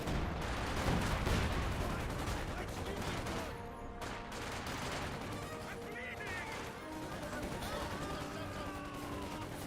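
Dense, continuous gunfire and explosions from a Company of Heroes 2 battle, with shots hitting a Panzer IV tank, a loud, crackling barrage of overlapping bangs and booms sustained throughout.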